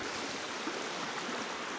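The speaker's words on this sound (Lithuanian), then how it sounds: "priėjom kažkoks upelis" A small stream in winter in Neris Regional Park, Lithuania, a steady soft babble of flowing water, even and continuous, faint and fairly close, with no voices.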